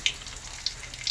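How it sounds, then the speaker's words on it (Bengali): Whole cumin seeds and a bay leaf crackling in hot oil for tempering, a soft continuous sizzle broken by a few quick pops, close and fairly quiet. "গোটা জিরে ফোড়নে দিচ্ছি আমি, তেজপাতা"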